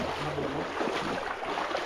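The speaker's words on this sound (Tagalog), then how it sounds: "Malakas yung baha mga idol" Strong flood water rushes through a swollen stream, a continuous churning roar with some wind buffeting the microphone, steady and close with no talk.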